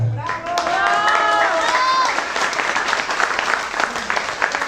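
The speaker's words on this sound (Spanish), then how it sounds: "fuerte el aplauso para mi niña" Applause for a young girl at her baptism celebration, a full burst of clapping from guests that rises quickly and holds, with excited voices and cheers mixed in at the start.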